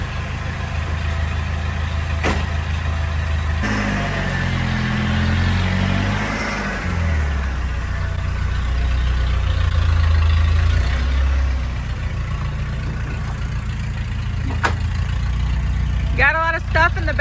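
A pickup truck with its factory exhaust runs steadily, a low engine rumble that rises and falls as it revs and pulls away, with people talking over it.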